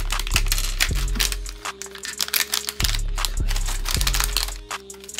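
Pieces of gum are poured out of a container. The result is a dense crinkling, rattling clatter that keeps going for several seconds, mixed with scattered clicks and knocks.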